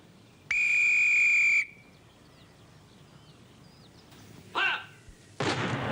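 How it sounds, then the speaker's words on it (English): A sharp, shrill whistle sounds once for about a second, loud and clear, followed by quieter scuffling and a couple of abrupt bangs in a wartime comedy scene. "I'm due to blow the whistle in 30 seconds."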